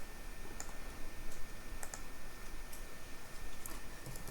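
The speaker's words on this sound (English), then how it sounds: "Let me just type in a plot range here." Quiet, sparse key clicks from a computer keyboard come in short irregular bursts of typing, close by, with no voices.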